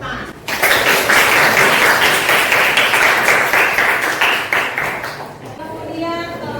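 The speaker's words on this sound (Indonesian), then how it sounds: "Untuk kelompok 1 tepuk tangan." Classroom applause as students clap for a group that has just presented, steady mixed clapping lasting several seconds before trailing off, with voices in the room.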